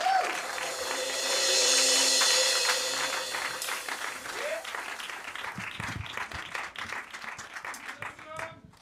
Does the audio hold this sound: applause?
yes